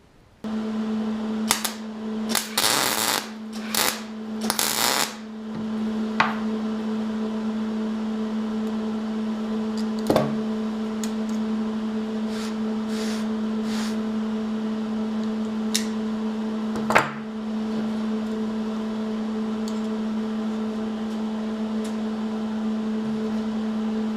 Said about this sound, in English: I'll tack weld over here, and then I'll put a weld in here.